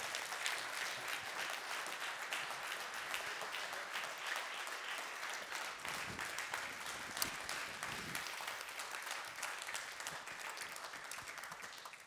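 An audience at a French civic gathering applauds for Juliana Chichmania, sustained clapping that runs steadily for several seconds, fairly faint and with no talk on top.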